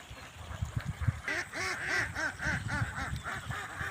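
Domestic ducks quack repeatedly in a close, busy chorus of overlapping nasal calls with a rough rhythm, heard alone without talk.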